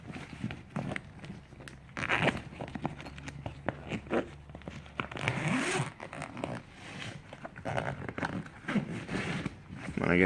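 Zippers are pulled on a motorcycle bag during camping preparation, a series of short, close rasping zips with pauses and fumbling between them and faint background noise.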